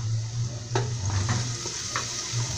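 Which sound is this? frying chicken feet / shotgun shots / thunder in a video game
frying chicken feet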